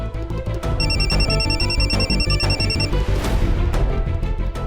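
A phone rings with a repeating electronic trill over busy background music, the ring stopping partway through.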